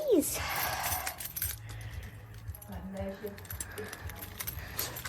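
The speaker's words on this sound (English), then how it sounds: "Too many keys." A bunch of keys jangles in brisk metallic clinks and rattles, close by, with a short burst at the start and more jingling through the rest, while a voice talks over it in a home setting.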